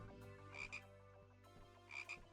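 Frog croaking in a video game: repeated tonal croaks in pairs, two clusters about a second apart, over steady game music with no talk.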